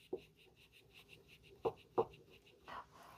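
A spoon stirs lemon ricotta cake batter in a bowl, making a few soft, scattered scrapes and taps over a quiet room with no talking.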